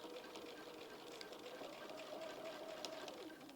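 A sewing machine hums continuously while quilting fabric, a soft, even mechanical whir heard faintly and without pauses.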